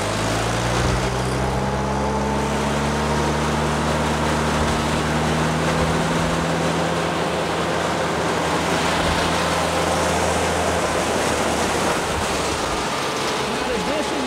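Bandit 150XP wood chipper engine running at full RPM, a loud, steady droning roar with a constant low hum, sustained close by without a break.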